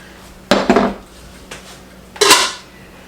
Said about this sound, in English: I'm just going to stir it together